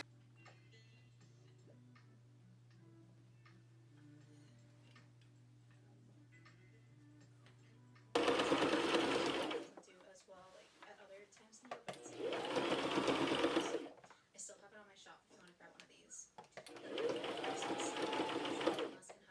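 A sewing machine stitches the shoulders of a sweater in three loud, close bursts of rapid mechanical whirring separated by pauses, after a quiet stretch of faint hum at the start.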